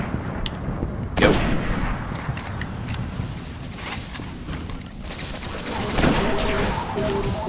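Gunfire in the Destiny video game: repeated loud shots and blasts with sharp reports near 1 and 6 seconds over a constant rumbling battle backdrop, no talk.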